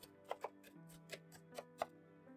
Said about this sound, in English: Cut the onions in half and slice them lengthwise.